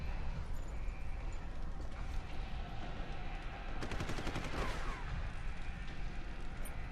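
Rapid bursts of gunfire in the video game Deus Ex: Human Revolution crackle over a steady noisy background, with a dense volley in the middle.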